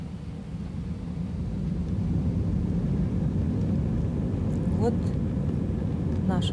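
Airliner jet engines during the takeoff run: a steady, loud low roar that builds over several seconds, with a few brief higher chirps near the end.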